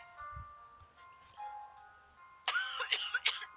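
A burst of harsh, heavy coughing breaks out after a quieter stretch, several rough coughs in quick succession, close and fairly loud.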